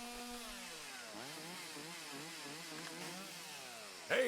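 A chainsaw runs in the video game Lake, a buzzing engine whose pitch rises and falls in repeated revs, ending with a brief louder burst.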